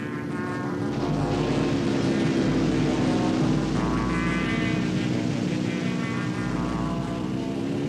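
Small microlight aircraft with a propeller engine droning steadily overhead in flight, loud and continuous with a buzzing, chainsaw-like tone and a slight rise and fall in pitch.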